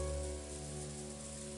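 Rain ambience from the Umineko When They Cry visual novel, a steady wash of rainfall over a rose garden with a constant hum of tonal background music, even and moderately loud throughout.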